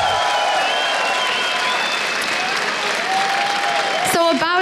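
A crowd at a League of Legends esports match applauds and cheers steadily throughout, a dense wash of clapping with a high tone sweeping over it, ending in a sharp burst.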